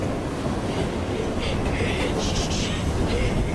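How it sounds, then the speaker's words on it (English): Inside a rolling train in Assassin's Creed Syndicate, a loud, steady rumble of wheels and carriage noise continues throughout, with faint voices underneath. "We'll be on our way as soon as the train slows, miss."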